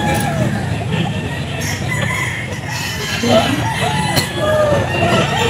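A pumpkin gamefowl rooster crows amid the steady bustle of a crowded outdoor pet market, its calls rising over background chatter and traffic-like noise.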